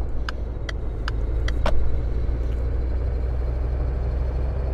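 A 2010 BMW M6 E63 engine in the City Car Driving simulator, a steady low rumbling drone with a few faint ticking clicks early on, no voices.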